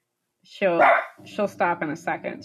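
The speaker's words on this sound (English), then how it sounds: "Sorry, that was a dog." A dog barks in a quick series of short, close yips and woofs mixed in with a person talking over them.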